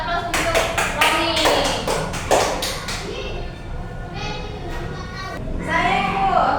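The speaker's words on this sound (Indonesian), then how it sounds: "beri aplaus" Classroom applause breaks out as a burst of uneven, sharp claps from a small group, thinning out over a few seconds amid children's voices and chatter.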